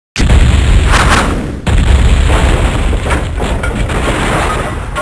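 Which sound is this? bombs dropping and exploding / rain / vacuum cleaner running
bombs dropping and exploding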